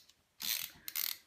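A screwdriver works on a Dell Optiplex 775 computer case, producing two short, close ratcheting bursts of clicking with a brief gap between them.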